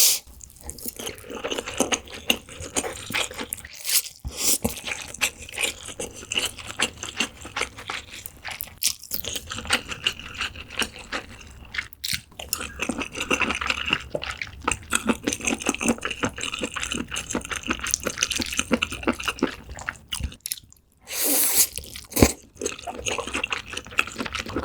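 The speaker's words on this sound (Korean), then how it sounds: "옥수수만부터 먹을게요." Close-up crunchy chewing of corn, with dense, irregular bites and moist mouth sounds continuing steadily, a few louder crunches standing out, and no talking.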